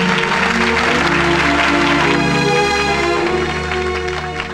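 A crowd applauds in a film scene: a dense wash of clapping up front, fading under a loud, steady musical tone that carries through to the end.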